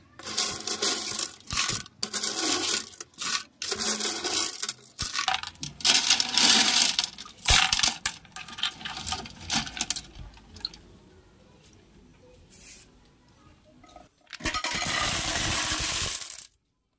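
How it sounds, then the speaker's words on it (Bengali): Stones being lifted out of an aquarium fish tank full of dirty water clatter and clink in bursts with wet splashes, then a quieter stretch before a final dense rattle. "এবার পাথরগুলো আমাদেরকে একটু তুলতে হবে কষ্ট করে"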